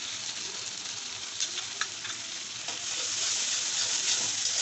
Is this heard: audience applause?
no